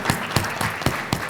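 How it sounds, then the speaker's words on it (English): Audience applause at a community discussion on traffic stops and policing, a steady wash of clapping from a crowd with a few sharper accented claps standing out at regular intervals. "Let's give everybody a round of applause for being here today."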